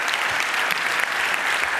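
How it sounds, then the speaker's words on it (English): Steady applause from a conference audience at a talk on government surveillance, welcoming the speaker onto the stage; dense, continuous clapping fills the space with no voices over it. "Give him a warm round of applause"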